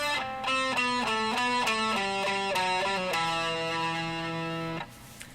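A melody is played on a guitar with a gritty, distorted tone: a quick run of stepped notes leads into a long sustained final note that rings out and then cuts off.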